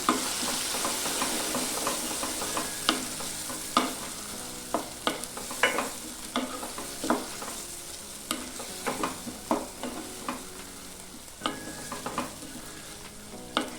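Brinjal chutney is stirred in a pan with a spoon, giving repeated scraping strokes in an uneven rhythm over a steady low sizzle. The sound is close and clear, with no voices.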